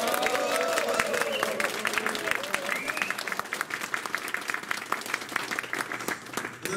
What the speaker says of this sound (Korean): 저는 이분께 더 박수를 한번 더 쳐드리고 싶습니다